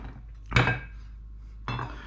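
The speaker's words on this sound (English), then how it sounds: "Same thing to the second garlic. You just have to smash it." Two sharp whacks of a cleaver smashing and chopping garlic cloves on a cutting board, one near the start and a second a second later, with quiet between them.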